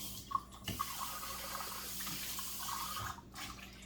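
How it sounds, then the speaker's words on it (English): Tap water runs steadily as an espresso cup is rinsed at a sink, a continuous splashing wash with a couple of brief knocks near the start. "I rinse this out."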